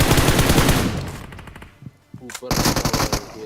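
Rapid automatic gunfire in a battle-royale style shooter game, dense loud bursts through the first half, then a lull with a few scattered shots before another burst of firing returns near the end.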